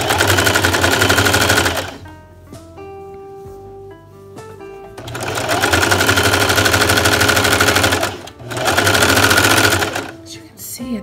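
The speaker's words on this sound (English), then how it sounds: "I'm just gonna zigzag all the way down." A sewing machine zigzag-stitches down a baby sleeper seam in two long loud bursts of rapid chattering needle strokes, separated by a quieter pause with faint tones.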